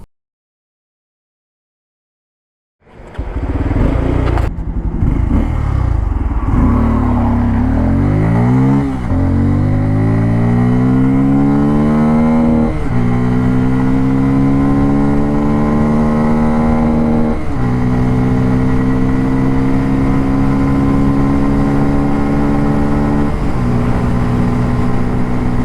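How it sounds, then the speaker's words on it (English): A Bajaj Pulsar N250 motorcycle accelerates hard from a standstill toward 100 after a brief silence, its engine climbing through several rising gear pulls with short dips at each shift, loud and close. "I hope you saw how this motorcycle is actually picking from that 0 to 100."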